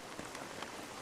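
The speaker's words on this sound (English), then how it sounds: "the rain started coming down" Rain pours steadily down onto a picnic table, a soft continuous patter of drops with a few slightly louder taps, heard alone.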